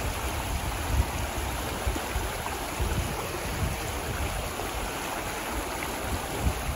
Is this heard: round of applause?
no